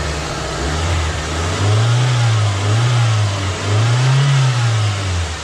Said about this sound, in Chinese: 我给它加一点油门